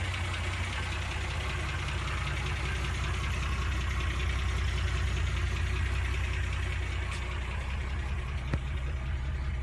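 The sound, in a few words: Wolseley car engine running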